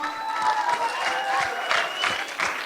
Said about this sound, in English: please welcome her on the stage with a big applause